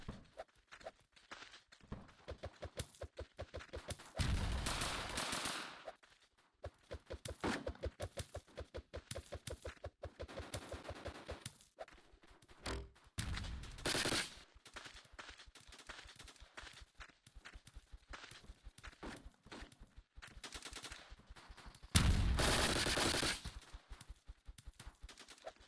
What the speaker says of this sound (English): Now we're using a VSK.